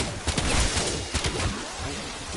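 Fireworks in Call of Duty Black Ops 7 crackle and pop in rapid bursts, a fairly faint, busy stream of bangs that sounds like distant gunfire.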